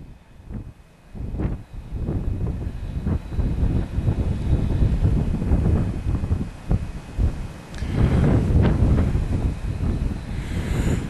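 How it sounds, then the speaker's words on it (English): Strong wind on an open fell in the Lake District buffets the microphone in loud, gusty rumbles that rise and fall throughout, with no voices. "As you can see by the way the ferns are blowing, the wind's pretty strong round here"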